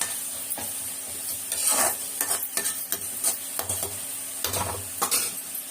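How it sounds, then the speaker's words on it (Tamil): A pan sizzles softly while ingredients are sautéed for a home-cooked kadamba gravy, and a spoon scrapes and stirs in repeated bursts. "நல்லா வதங்கணும்."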